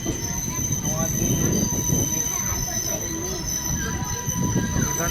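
The Sealdah–Jalpaiguri Road Humsafar Express runs at speed without stopping, a steady loud rumble of wheels on rail with a high, continuous squeal running through it, heard from on board.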